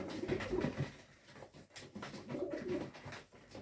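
Crested pigeons kept as show birds, a crested male and a plain-headed female, give soft, low cooing calls in two short bouts at close range, fairly quiet, with no talking.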